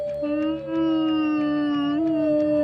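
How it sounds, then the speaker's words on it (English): Dogs howling together, a sustained layered chorus of long tonal howls with steady pitch and a slight rise near the end, loud and close. "all of the hound and dog type Digimon start howling"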